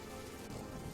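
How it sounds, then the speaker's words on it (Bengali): Cartoon rain pours in a soft, steady wash of patter on surfaces, alone for a brief moment. "এখন তো বৃষ্টি হচ্ছে"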